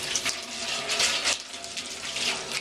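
Water splashing and gushing while a food storage drum is rinsed out, a loud, close, continuous spray with surging swells.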